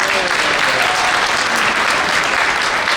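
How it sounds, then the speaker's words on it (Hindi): Loud, sustained audience applause at a hospital fundraising event honoring donors: a thick, continuous roar of many hands clapping at once, close and steady throughout with no pauses. "पहले तालियां बजाएं उनके लिए।"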